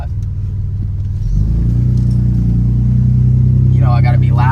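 A Dodge Dakota pickup truck idles loudly up close, then its engine rumble deepens as it pulls away into a steady low drone. Someone talks briefly near the end.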